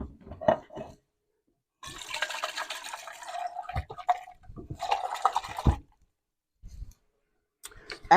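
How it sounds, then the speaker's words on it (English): Tap water runs and pours into an emptied tomato can while making pasta sauce, in two sustained splashing bursts broken by clicks and a few short knocks, close by and moderately loud. "Adding the water also helps clean off the can."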